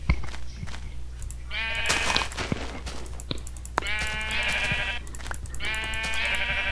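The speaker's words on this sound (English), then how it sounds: "I found some sheep." Sheep bleating in the video game Minecraft, several close, wavering bleats in quick bursts over a low steady hum.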